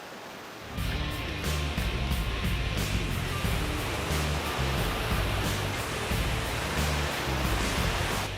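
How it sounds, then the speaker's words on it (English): A woodland creek rushes along in a steady, loud wash of flowing water that starts abruptly after a brief quiet moment and then continues unbroken. "we're on a creek here"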